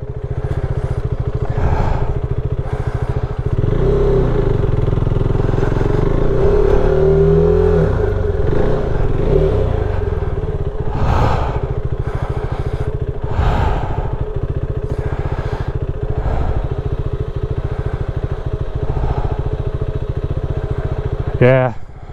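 A motorcycle rumbles over a rough, rocky trail in Vermont, its engine loud and close with revving surges and clattering bumps, and a voice speaks briefly over it.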